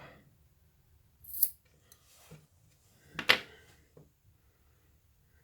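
Scissors snip through a pounamu pendant's necklace cord in two crisp, close cuts separated by about two seconds, with a few faint handling rustles between them.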